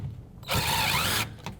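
A power drill drives screws into wall studs while mounting a flush-installed microwave, one sustained whir of about three-quarters of a second, close and loud, with quieter mechanical handling before and after.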